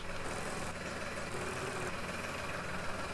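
A tractor engine in the farming video game Farm Expert 2017 drones steadily at a low idle-like rumble, constant and unbroken throughout with no speech.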